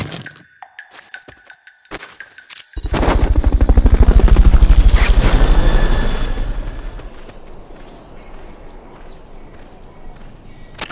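A recovery helicopter in the video game Metal Gear Solid: Peace Walker roars in abruptly after a few sharp clicks, a loud rapid rotor thump that swells for several seconds, then fades to a softer steady whir.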